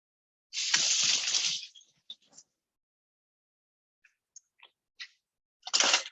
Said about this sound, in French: je vais passer les pâtes à l'eau